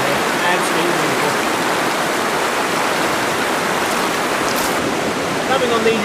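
River water flows through a slot canyon in a dense, steady rushing wash, loud and close, continuous from start to finish.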